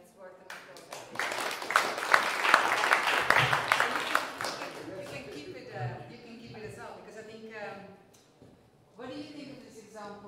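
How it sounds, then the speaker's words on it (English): Meetup audience applauds at a blockchain talk, a burst of clapping swelling for several seconds, then fading as a speaker's voice returns. "Wow, that's worth an applause."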